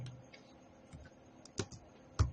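Quiet typing on a computer keyboard during page layout work, a few scattered key clicks and taps, close and soft, with no talking.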